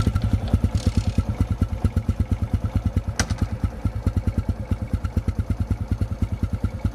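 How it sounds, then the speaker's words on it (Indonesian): A 2007 Honda Revo 100 motorcycle idles close by, its exhaust giving a fast, even, bassy thump with a slight metallic rattle, steady throughout and with no talking. "Suara yang dihasilkan oleh kanister knalpotnya itu benar-benar khas banget Revo yang agak ada sedikit kecimpringnya tapi ngebas."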